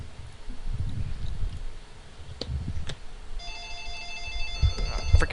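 A phone rings with a repeating electronic tone in the last couple of seconds, over rustling and low thumps in a room where a game match is being played.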